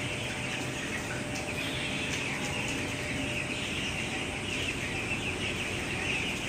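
Fifteen-day-old chickens inside a poultry farm shed make a dense, continuous chorus of clucking and cheeping. It is a steady, moderately loud wash of bird noise with no clear pauses.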